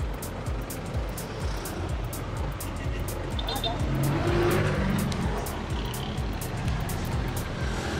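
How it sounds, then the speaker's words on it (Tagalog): Dense traffic heavy with motorcycles streams near Zapote Bridge, a steady roar of many engines close by, heard from a Honda ADV 160 scooter with wind buffeting. A voice speaks over it. "Grabe yung daming motor."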